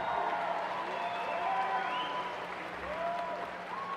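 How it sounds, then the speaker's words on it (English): A graduation audience for a 2019 high school ceremony applauds in a large hall, the clapping soft and distant, blended into a reverberant wash with faint voices and tonal sounds over it. "You can clap for that."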